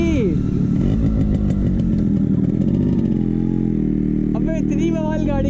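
A Yamaha RX 100 two-stroke motorcycle engine roars loudly and close by, its pitch climbing with the revs, dropping at the shift and building again, with no talk over it.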